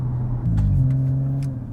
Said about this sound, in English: if you knock it down to sport, you get even more noise